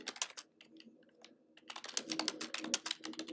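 Computer keyboard typing while composing an email: quick, light keystrokes clatter in irregular bursts with a short pause in between, close and fairly quiet.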